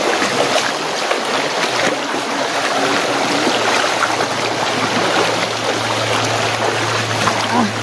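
A river current rushes steadily and fairly gently past a crossing point, a continuous close hiss of flowing water without pause.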